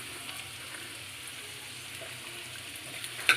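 Ginger and onion sauté in a pan with a soft, continuous sizzle. It is fairly quiet and steady throughout, with a small clink near the end.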